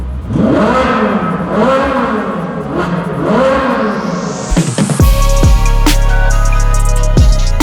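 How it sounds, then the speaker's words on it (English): A new Ford GT engine revs up and down in waves, then roars hard, echoing loudly in an enclosed tunnel, with no talk. "This car in a tunnel sounds so good."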